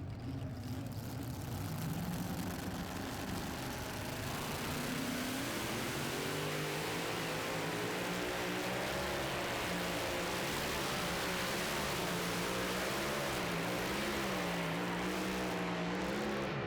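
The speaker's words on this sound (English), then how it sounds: "you could hear the RPM shoot up and down as it unloaded those rear tires and then loaded them back up" A mini rod pulling tractor called Walk the Line roars at high RPM during a pull at Farley, Iowa, the engine note surging up and down as the rear tires unload and reload, loud and continuous throughout.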